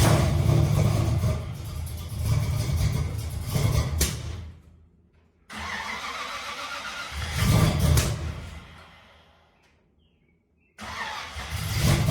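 A 1965 Chevy El Camino V8 with a new custom exhaust and new mufflers cranks and fires, then revs in loud deep bursts that die away between pulls. The engine catches again near the end, with no voices.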